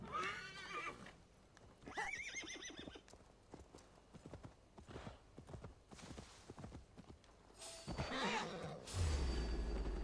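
Rhythmic hoofbeats clip-clop throughout, then a loud horse whinny near the end, with game-like effects and a low rumble.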